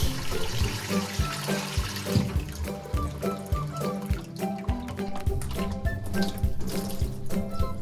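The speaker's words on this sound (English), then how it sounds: "Fill the container with fresh water." Water pours steadily into a chicken drinking container, a continuous splashing rush with irregular gurgles and knocks, close by.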